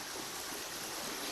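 A river stream flowing outdoors in nature, a steady broadband rush of moving water that stays even and close throughout, with no talk over it.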